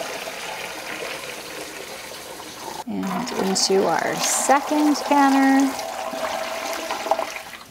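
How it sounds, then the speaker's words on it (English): Water pours steadily into the bottom of a home canning canner, a continuous close rushing fill that runs throughout, while a person talks over it. "So we add two inches of water into the bottom of our canner"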